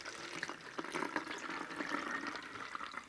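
Coolant fluid poured into an AiO liquid CPU cooler that has no fill plug, a steady close trickling and gurgling of liquid running without pause.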